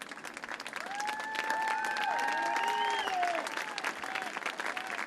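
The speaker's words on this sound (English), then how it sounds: "So a round of applause for David Rodriguez as he exits here tonight" A stadium crowd at a North Texas SC soccer match applauds a player being substituted off, sustained clapping spread across the stands with a few whistles rising above it and voices mixed in.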